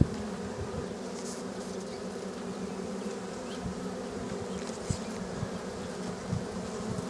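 Bees swarm a hive during robbing as the colony defends itself, a dense, continuous close buzzing with occasional individual insects passing nearer.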